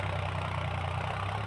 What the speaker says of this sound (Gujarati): આ બીજા ખેતરમાં પણ ટ્રેક્ટર ખેડવા આવી ગયું